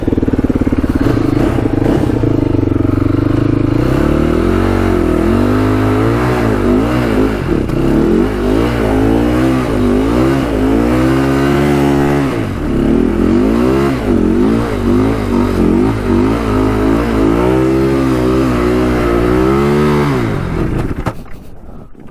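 A Polaris Predator 500cc quad runs at full throttle through deep snow, its engine loud and close, revving up and down repeatedly and holding a rough, steady drone until it drops off at the end.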